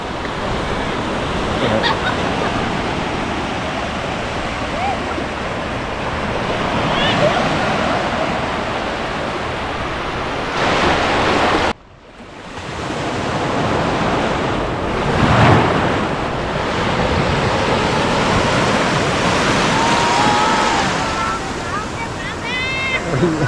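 Steady rush of sea waves washing onto Pak Meng Beach in Trang, Thailand, at low tide, with wind buffeting the microphone and a short dropout midway.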